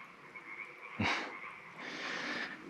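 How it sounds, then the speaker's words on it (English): A chorus of frogs croaking steadily in the distance in a forest, with a louder rasping croak rising out of it, no talking. "there's a bunch of frogs making noise out there"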